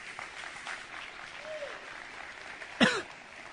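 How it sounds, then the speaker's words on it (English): A church congregation claps during a weekly sermon service: light, scattered applause at a moderate distance, with a single sharp cough-like burst near the end. "yes, let's clap."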